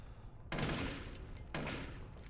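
Sustained gunfire from an infinite-ammo weapon in Resident Evil Village, two long dense bursts of rapid shots, loud and close, with brief gaps.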